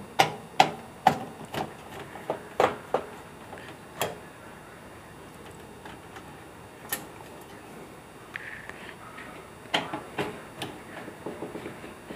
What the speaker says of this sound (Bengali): এই স্ক্রুটা হালকা করে খুলে নিলাম